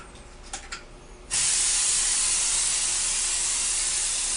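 An airbrush tanning sprayer starts with a click and then hisses in a loud, steady, close-up spray that continues without a break; a few faint handling sounds come just before it starts.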